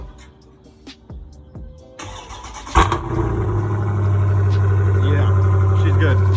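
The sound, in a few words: 2020 Scat Pack Challenger car engine starting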